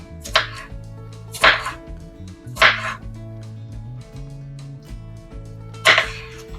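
A knife slices through food on a cutting board for homemade salsa, giving four sharp chopping strokes at uneven intervals, close and crisp, over a low steady hum in the background with no talk.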